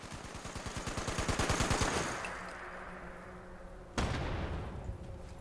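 An explosive weapon in Fallout 76 fires in rapid automatic bursts, a quick rhythmic rattle of shots followed by a louder blast and a rumbling tail.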